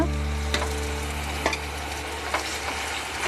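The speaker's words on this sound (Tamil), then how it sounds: "தக்காளியும் அதே மாதிரி நல்லா க்ளீனாக சுருண்டு வர வரைக்கும் வதக்கிக்கோங்க" Tomatoes sautéing in oil in a pan for Kerala-style fish molee, a steady close sizzle with a low continuous hum beneath and a few soft stirring scrapes.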